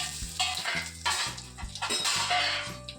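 Cumin seeds, asafoetida and curry leaves crackle and sizzle loudly in hot oil for a kadhi tempering over a low flame, with bursts of spattering and a few clinks of a spoon against the pan, and no voices.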